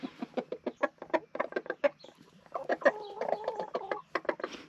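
Chickens cluck in a quick, uneven series of short calls, with a longer warbling cackle in the middle, close by and clear.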